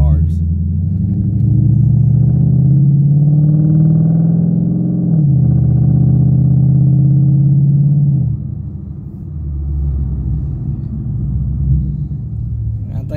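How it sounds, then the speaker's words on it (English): Cammed Chevrolet Caprice, a former police car with a 6-liter LS3, rumbles nearby with a deep lopey idle that swells, dips around five seconds, then settles lower, with people talking over it. "Listen to that thing. It's cam to death."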